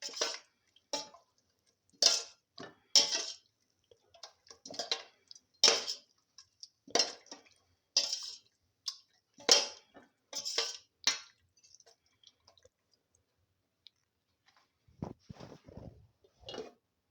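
A spoon stirs a chicken mixture in a pan, heard as a run of close, sharp scrapes and clinks in irregular bursts with quiet gaps between them, fading toward the end.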